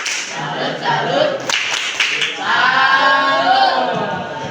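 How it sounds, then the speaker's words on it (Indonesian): Classroom applause from junior high school students, a dense burst of clapping that swells and carries on steadily, with voices mixed in under it. "Tepuk tangan."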